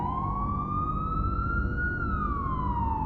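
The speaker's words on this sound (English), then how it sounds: "Then far off, a siren wailed, a sound that didn't belong to rescue." A single siren wail sweeps slowly upward and then falls back again, a loud, sustained tone with a low rumble beneath it and no voices.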